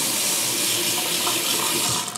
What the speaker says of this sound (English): now we're at the sink, so we're going to fill this up